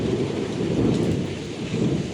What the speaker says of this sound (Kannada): ಮಳೆ ಬರತೈತಿ.